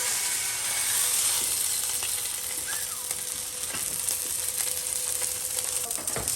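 A5 Wagyu steak sizzling in a very hot pan just after being flipped, a loud continuous hiss and crackle with scattered pops and light utensil clinks, steady throughout.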